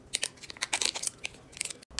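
A chocolate wrapper being peeled open on its gold foil side, a run of crisp crinkling and tearing rustles in quick irregular bursts, close and fairly quiet.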